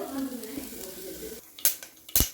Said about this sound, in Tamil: இப்போ நம்மளோட கடுகு நல்லா பொரிஞ்சிடுச்சு.